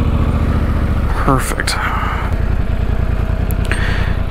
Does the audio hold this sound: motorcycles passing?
yes